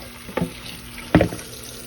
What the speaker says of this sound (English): I'm just going to rinse them good with water and let those dry off a little bit here in the sink